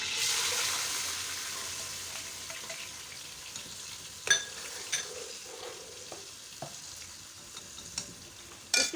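Ginger and garlic fry in a hot pan with oil, a steady close sizzle that starts loud and eases slightly, broken by a few sharp clinks and pops.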